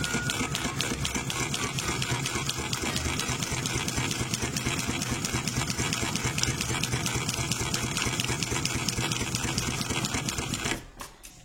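A MAK TE4400 industrial triple-feed sewing machine runs steadily while stitching leather, a loud, fast, continuous mechanical chatter that stops abruptly near the end.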